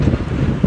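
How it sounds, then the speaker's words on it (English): Wind buffets the microphone outdoors in a dense, low rumble with uneven gusting thumps throughout the brief moment. "Oh, it's windy."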